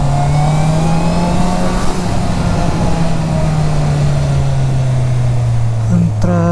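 A 2021 Honda CB650R motorcycle engine holds a steady, loud drone while creeping through heavy traffic on SLEX, its pitch slowly sagging before a short rev near the end.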